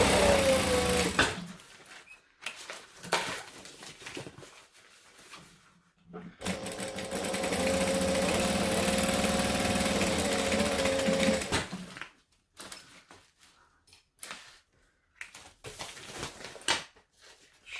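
A sewing machine stitches the side seams of a folded-down pocket on a Bagstock Trailblazer bag, running in several bursts with one long steady run in the middle, the gaps between them quiet.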